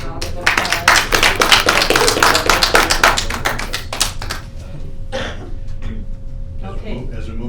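A small crowd at a school board meeting claps in a dense burst for a few seconds, then the clapping thins out and fades into quieter room noise.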